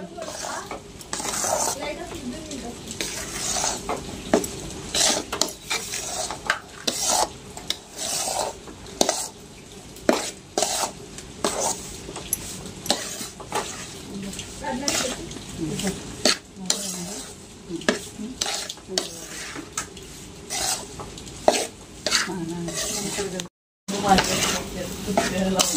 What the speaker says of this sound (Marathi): एकसारखं हलवत राहायला लागते याला, कारण पीठ करपण्याची शक्यता असते